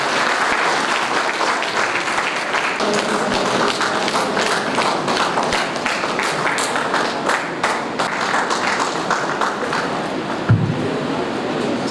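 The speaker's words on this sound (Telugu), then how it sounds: "మనందరం చప్పట్లతో ఒకసారి వారికి ధన్యవాదాలు తెలియజేద్దాం" Loud, close applause from an audience thanking guests at an Itihasa Sankalana Samiti meeting, a dense crackle of many hands clapping steadily for the full length, with a few soft thumps near the end.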